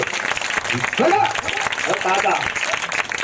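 A congregation at a Christmas gospel meeting applauds with sustained, fairly loud clapping that runs throughout, with a preacher's voice talking on top of it.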